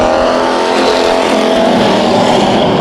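Race cars roaring through a heat race at Bakersfield Speedway: loud, continuous engine drone of a pack of cars at close range, steady and dense throughout without a break.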